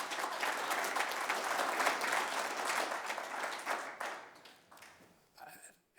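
Conference audience in Calgary applauding loudly and steadily, a dense wash of clapping that tapers off near the end with a brief final burst.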